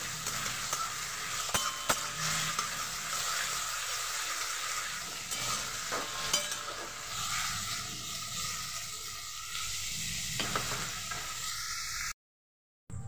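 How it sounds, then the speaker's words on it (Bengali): Chopped onions, three large ones, frying in oil for a mutton and potato curry, with a steady close sizzle and occasional stirring scrapes throughout, no talking, ending in a brief silence. "পেঁয়াজটা ভেজে নিয়েছি,"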